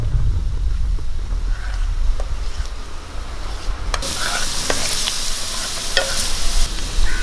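Onion with a pinch of salt sautéing in a pan for chickpea thoran, a continuous soft sizzle with scattered scraping stirs, brightening sharply partway through as the frying intensifies.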